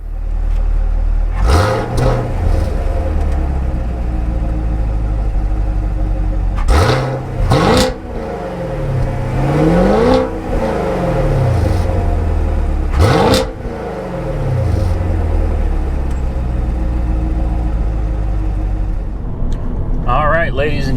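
2016 Chevy Camaro SS exhaust with its original mufflers: a loud idle rumble broken by several sharp throttle revs that rise and fall back, repeated across the stretch with a closing crackle.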